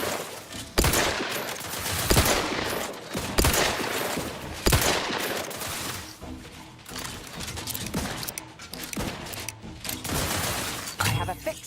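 Rapid bursts of gunfire in The Outer Worlds, loud and close, with dense overlapping shots and impacts filling the whole stretch and occasional voices beneath.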